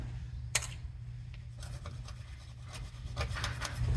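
A pick scrapes old gasket material off the engine surface of a 1994 Chevy K1500. The scratches are quiet and intermittent, with light rasping strokes close by over a faint low hum.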